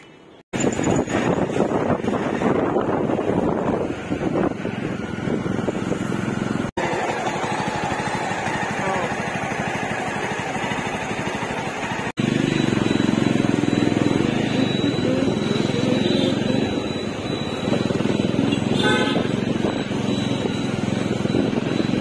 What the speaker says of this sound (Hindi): तो निकलते हैं बाइक पे और राइड लेते हैं